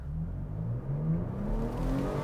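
A Toyota Tacoma TRD Pro, stuck off-road in two-wheel drive with traction control off, revs hard as its wheels spin and dig in, a short, loud engine roar.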